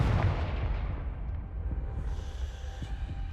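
Confringo fire spell exploding in Hogwarts Legacy: a heavy, booming blast at the start that decays into a rumbling, crackling tail, loud and without speech.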